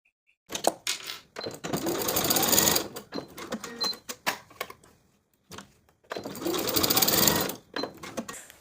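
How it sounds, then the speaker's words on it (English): A sewing machine bastes the short ends of elastic in a pull-on pants waistband, running in two longer rapid stitching bursts with short starts and pauses between them, close up and clear. "Then I'll baste both short edges to secure the elastic in place."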